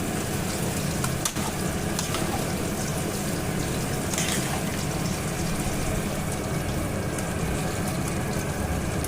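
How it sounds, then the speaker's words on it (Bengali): Pre-fried shrimp being stirred into a Malabar spinach stir-fry in a pan, giving a steady close sizzle and hiss of cooking that runs unbroken with no talking. "এবার আমি এর মধ্যে দিয়ে দিচ্ছি আগে থেকে ভেজে রাখা চিংড়ি মাছগুলো, আর চিংড়ি মাছগুলোকে দিয়ে শাকের সঙ্গে খুব ভালো করে মিশিয়ে নিতে হবে।"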